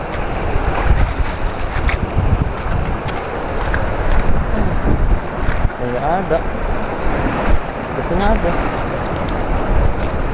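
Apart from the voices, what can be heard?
sea waves on the South Aceh coast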